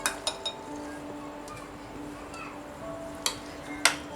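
Cooled vegetables go into a bowl of Russian salad dressing and get mixed, giving a few sharp clinks of a spoon against the bowl near the start and again later, faint and spread out with quiet gaps between.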